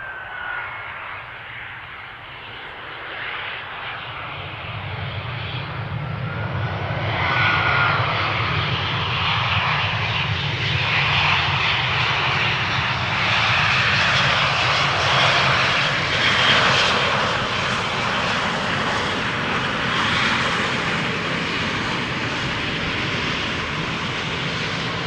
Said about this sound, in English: EasyJet flight 22515 from London Luton